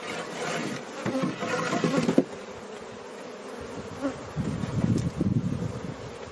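Honey bees buzz steadily around hive frames during a colony inspection, a close, continuous drone with occasional louder passes near the microphone.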